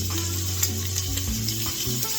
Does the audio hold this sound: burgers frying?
yes